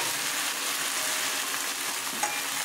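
Tomato goes into sautéed onions, chilli and ginger frying in a pan for a thin katla fish and potato curry, giving a steady, dense hiss of sizzling oil close by, with no one talking.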